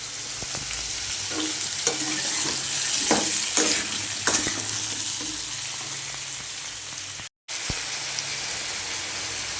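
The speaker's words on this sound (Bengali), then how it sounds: "গরম করেছি খুব, তাকে ভালো করে ভেজে নেব।" Broken wheat (dalia) and lentils fry in a hot pan, giving a steady, close sizzle with intermittent stirring scrapes and clicks, a brief dropout near the end, and no talk.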